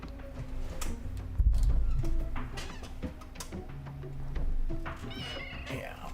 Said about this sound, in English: Cat's coming back.